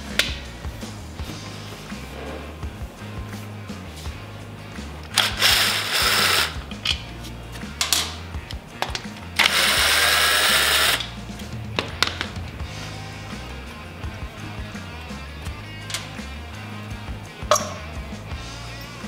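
Hand tools clicking and ratcheting while the seat and battery are removed from a 2018 Harley-Davidson Softail, with intermittent bursts of mechanical whirring and short metallic clicks, fairly close, no talking.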